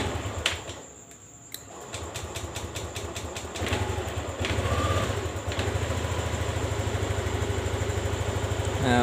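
A Yamaha Lexi scooter runs with a steady, pulsing engine note, close and fairly loud; the engine has a fault where it will not hold idle and dies when the throttle is released.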